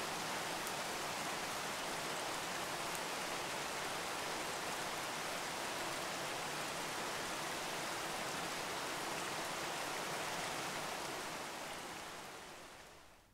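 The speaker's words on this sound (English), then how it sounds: "as you gaze at the rain falling from the heavens," Rain falls steadily from the sky over a wintry outdoor landscape, a soft, even hiss of drops that holds constant for over ten seconds before fading out, faint and with no voices.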